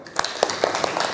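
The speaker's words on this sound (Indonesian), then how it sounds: "Sip, tepuk tangan." A classroom of students gives a short burst of clapping, a handful of separate claps spread sparsely across a quiet room rather than full applause.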